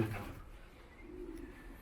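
A racing pigeon, a speckled white-flighted hen, coos softly, a low, muffled call with a quiet pause before a second murmur, heard alone in a calm setting.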